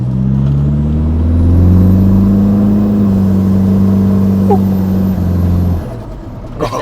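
Revving diesel engine of a modified Toyota Innova, loud and close, rising and holding at a steady throttle for several seconds before easing off, with a brief voice near the end.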